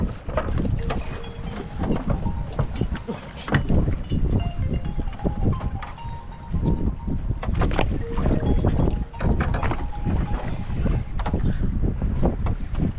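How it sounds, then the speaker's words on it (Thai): Strong wind buffets a fishing boat at sea off Sai Buri, a continuous loud roaring rush with gusty bursts and microphone wind noise throughout, with no voices. "วันนี้อากาศไม่ค่อยดีนะครับ เป็นลมนะครับ"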